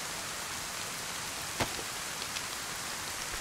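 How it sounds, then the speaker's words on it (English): Rain falls steadily in the survival video game DayZ, a continuous hiss of drops on surfaces with one brief sharper patter partway through. "So even though it's raining and we're cold, our temperature isn't blue yet"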